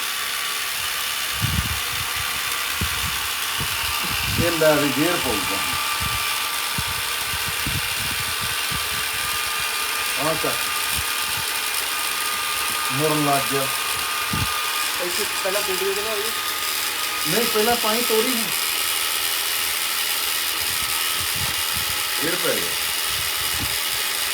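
A gear system and motor run steadily with a continuous mechanical whir and repeated ratcheting clicks, and several voices talk intermittently over it.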